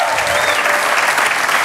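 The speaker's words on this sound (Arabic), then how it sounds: "تصفيقه كبيره من الجمهور" A studio audience at a Tunisian TV talk show breaks into loud, steady applause, a dense continuous clatter of many hands filling the room throughout.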